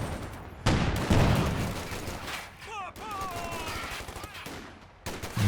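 Gunfire in a Company of Heroes 2 battle: bursts of rapid small-arms and machine-gun shots in clusters, loud and dense with short pauses, mixed with other battle noise and brief chirping tones.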